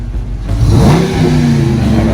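A Dodge Challenger R/T rental car revs its engine up close, a loud throaty rise that swells and then holds in a steady roar, with no voices over it.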